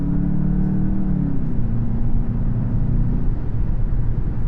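A Volkswagen GLI's engine pulls hard under acceleration in normal mode, heard from inside the cabin as a loud, steady low drone whose pitch rises and then holds as it keeps building speed.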